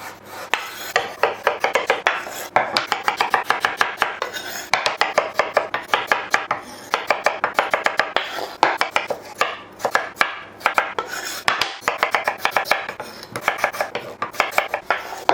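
A knife chops potatoes into small cubes on a board, with quick, crisp, evenly spaced chops in short bursts and brief pauses, close and clear with no talking.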